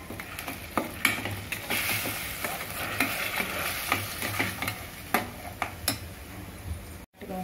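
Spices, green chillies, ginger-garlic paste and cashews sizzle in hot oil in a pan while being stirred, with repeated scraping strokes of a spoon cutting through a steady frying hiss, close and fairly loud, with no talk.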